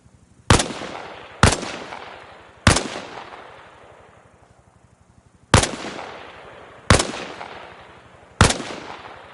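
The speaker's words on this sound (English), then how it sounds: "Position yourself behind the wall and lean out while firing." Six loud single gunshots in a video game weapons training drill, fired from behind a wall, land at irregular intervals, each a sharp crack with a long echoing tail.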